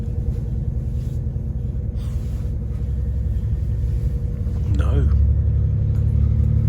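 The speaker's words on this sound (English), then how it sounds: "Okay, final acceleration, next stop St Pancras." Low rumble from inside a train accelerating out of Leicester toward St Pancras, a steady drone that swells louder toward the end with a brief rising whine, while people talk throughout.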